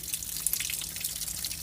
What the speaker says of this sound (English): Let that leak a little bit.